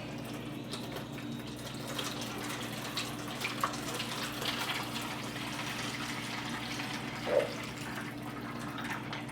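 Bouillon broth pours into a pan in a quiet, steady trickle against a low background hum, with a small splash near the end.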